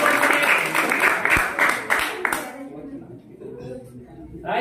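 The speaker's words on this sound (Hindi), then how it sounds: "ताली" An audience claps at a rope magic show, a dense burst of applause lasting about two and a half seconds before fading into quieter room sound with faint voices.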